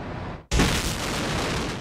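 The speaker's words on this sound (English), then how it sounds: "This is a test explosion set off by American scientists who are trying to outfox terrorists and the bombs they make." A test blast set off by American scientists simulating a terrorist bomb: a sudden, loud broadband boom cuts in after a brief quieter stretch, then a sustained roar and rumble of debris and air rolls on without fading.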